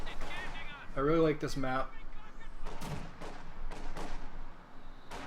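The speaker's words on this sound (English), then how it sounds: "Getting some mortars out and setting them up." Mortars in the World War II strategy game Company of Heroes 2 fire in several dull, distant thumps spaced about a second apart, under someone talking.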